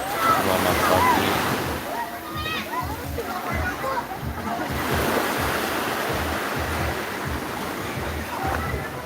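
Surf rolls in at Ponnori beach, a steady loud rush of breaking waves with wind buffeting the microphone and a voice talking briefly over the roar.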